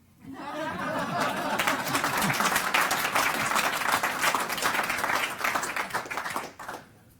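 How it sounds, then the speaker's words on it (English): Applause at a newspaper association hall of fame dinner, a dense, fairly distant clapping that builds quickly, holds steady for several seconds with light laughter mixed in, then cuts off. "please applaud."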